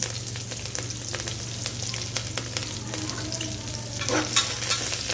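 Onions sautéing in a pan for egg biryani give a steady close sizzle with frequent stirring scrapes and a low hum beneath.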